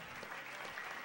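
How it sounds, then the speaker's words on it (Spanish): A church congregation claps together in a burst of steady applause that runs the whole second, fairly close, with no one speaking over it. "Dele un fuerte aplauso al Señor."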